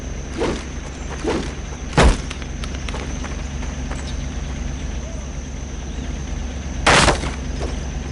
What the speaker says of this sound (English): Hit those dummies with the butt of your rifle!